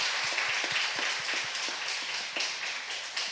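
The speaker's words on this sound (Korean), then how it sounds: "구역장님들에게 우리 박수 한번 보내주십시오." A church congregation claps for its cell group leaders at a Sunday service, a steady patter of many hands filling the hall, moderately loud and with no talking over it.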